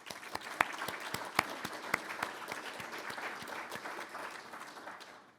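A modest round of audience applause for the ITS UK team, with several distinct sharp claps standing out near the front over a soft, steady patter of hands.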